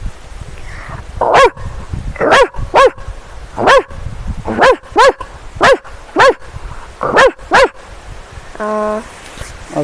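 A person imitates a dog barking in a mimicry performance, giving a series of sharp, evenly spaced woofs in quick pairs, loud and close, ending with a short whine.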